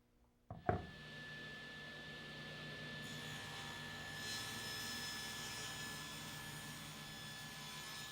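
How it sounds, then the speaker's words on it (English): A table saw rips rosewood trim: a sharp thump as the cut starts, then a steady, loud, droning whine that holds for several seconds without a break. "We use the table saw to rip the trim, leaving 3/4 of an inch of rosewood on all our steps"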